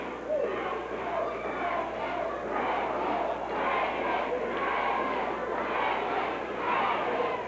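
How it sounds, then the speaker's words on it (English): A pro wrestling arena crowd in Portland, 1985, yells and roars continuously during a match, a dense wall of massed voices that swells in waves without pause. "Now the crowd yelling"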